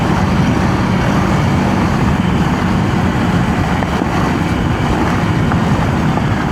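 A KTM Duke 200 motorcycle rides off-road, heard as a loud continuous engine roar mixed with heavy wind buffeting on the microphone, with no speech.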